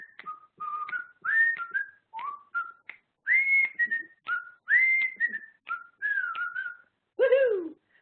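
A person whistles a lively tune close up and alone, in a series of clear sliding phrases with short breaks between them, ending on a rougher, breathier note.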